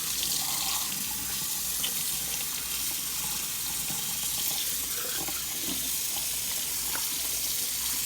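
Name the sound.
rinsing a raw turkey under running tap water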